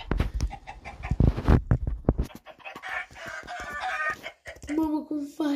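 Minecraft chickens cluck and a rooster-like crow rises among busy game sounds, with bursts of louder thumps early and several clucks near the end.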